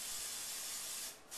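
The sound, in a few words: cooking spray sprayed on hot waffle iron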